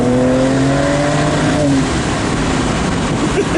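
A fast car in heavy traffic accelerates hard, heard from inside: a loud engine roar with a rising whine that climbs and then gives way to a steady, rushing drone.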